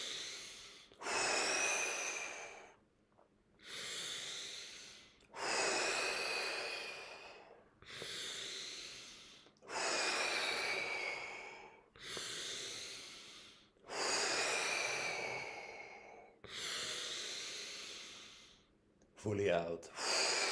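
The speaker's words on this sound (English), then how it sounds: "5 deep breaths in." Deep, forceful breaths drawn in and let out during a Tummo breathing session, about eight long rhythmic cycles, close and loud with short pauses between, and a brief rustle at the end.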